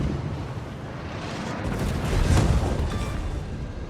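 A naval gun fires in the World of Warships video game, a rumbling boom that swells from a steady background roar and peaks midway before slowly fading back.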